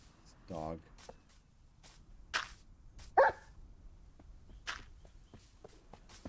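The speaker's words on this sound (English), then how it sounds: "It's dog." Dog barks in the video game Minecraft, a few short distinct yaps rising out of quiet game ambience during hardcore Bedrock survival play, with light footstep-like clicks between them and no talk over them.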